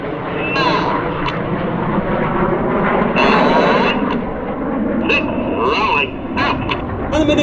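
Red Arrows jets fly a negative G barrel roll at the 2024 Sywell Airshow, their broad jet roar rising and falling beneath loudspeaker commentary.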